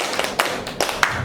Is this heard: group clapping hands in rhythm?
yes